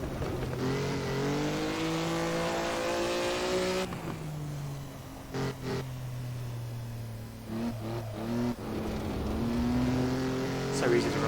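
A Maserati 250F classic Grand Prix car is driven hard through a chicane, its engine revving up and down through gear changes, near and loud, with a voice talking over it.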